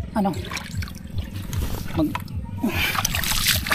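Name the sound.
scooping water to wash muddy feet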